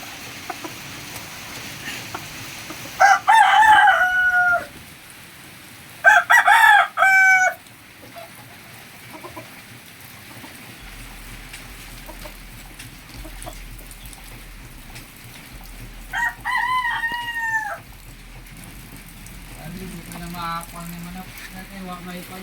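Gamecocks kept for fighting crow in three loud, close bursts, with long quiet stretches between them and some low background noise.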